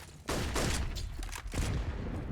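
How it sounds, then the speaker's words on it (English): Grenades and gunfire on the Inferno map in a professional CS:GO match: a dense, fairly quiet burst of shots and blasts crowding together in a couple of seconds, with a bassy thump partway through. "Battle of grenades ensues again."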